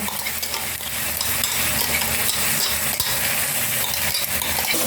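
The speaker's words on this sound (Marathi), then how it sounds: "तेलामध्ये चांगला भाजून घ्यायचा मग नंतर त्याच्यानंतर हा कांदा लसूण अद्रक हे जे होतं ते भाजून घ्यायचं" Onion, garlic and ginger frying in hot oil for a Maharashtrian chicken rassa, a steady loud sizzle with repeated scraping and stirring strokes against the pan, no voices.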